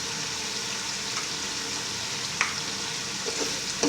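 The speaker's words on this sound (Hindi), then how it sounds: "इसको अच्छी तरह मिक्स करेंगे।" Mutton with garam masala stirred in a pan for shaljam gosht: a steady sizzle and fry under repeated spoon scrapes, close and even, with one sharp clink midway.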